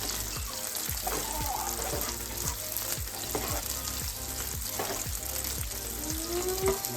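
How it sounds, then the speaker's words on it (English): A chicken pops mixture with fried onion sizzles in a pan, a continuous close crackle with a regular series of scraping stirs roughly every half second. "Mix it all together. Everything fried for 2 minutes."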